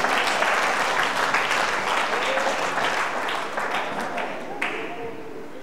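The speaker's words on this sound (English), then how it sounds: "Clap him." Audience applause at a church gathering, a steady wash of many hands clapping that holds for several seconds and slowly tapers, with faint voices mixed in.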